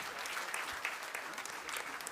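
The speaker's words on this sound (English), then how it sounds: "Let's again give a big round of applause" Steady applause from an audience at an indoor gathering, a dense patter of many hands clapping at moderate volume for a couple of seconds, with faint crowd murmur beneath.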